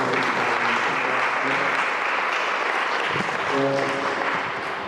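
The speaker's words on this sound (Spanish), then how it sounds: "Un aplauso para" Steady, dense applause from a sizable crowd, sustained throughout at a loud, even level, with faint voices mixed in.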